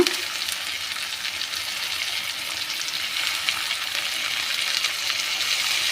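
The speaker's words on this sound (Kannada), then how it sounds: "ಸ್ವಲ್ಪ ಹೊತ್ತು ಬಾಡಿಸ್ಕೊಳ್ಳಿ. ಸ್ವಲ್ಪ ಸಾಫ್ಟ್ ಆಗಬೇಕು ಟೊಮೊಟೊ ಅಲ್ಲಿವರೆಗೂ." Tomatoes sautéing in a pan for a drumstick leaf dal give a steady, close crackling sizzle with light stirring scrapes throughout, no talk over it.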